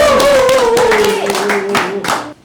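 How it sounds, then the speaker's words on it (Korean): A studio audience claps in a brief scattered burst during a Korean political talk show, with sharp hand claps standing out over a sustained voice. "내가 한마디 하니까 박수를"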